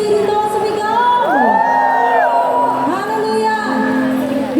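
A church congregation shouts and cheers loudly together, voices rising in whoops and yells that fill the room continuously.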